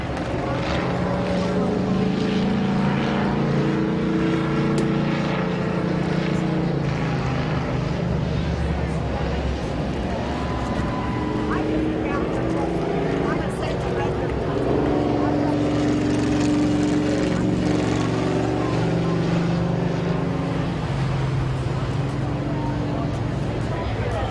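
Street stock race cars roaring around the Midvale Speedway oval during a heat race, a steady droning engine wash rising and falling as the pack passes, continuous and fairly loud.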